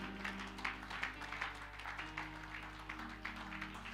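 A church congregation claps hands in a loose rhythmic pattern of repeated bursts, faint and somewhat distant over a steady low hum, with no talking over it.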